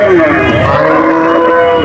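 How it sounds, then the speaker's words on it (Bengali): Cattle low loudly and close by at the Monday 18 Mile cattle market in Dumuria, Khulna, with a drawn-out moo over a faint background murmur of the crowd. "এগুলো 18 মাইল গরুর হাট এই ডুমুরিয়া উপজেলা খুলনা জেলার ভিতরে এই হাটটি"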